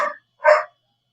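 A dog gives two short barks with a brief pause between them, reacting to someone cutting the grass. The barks are moderately loud and sound somewhat compressed, with silence after them.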